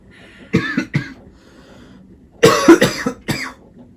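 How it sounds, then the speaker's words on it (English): Several close-up coughs from a person with a cold come in two clusters, a pair of quick hacks followed after a pause by a longer fit of three or four coughs. "Sorry about the cough there."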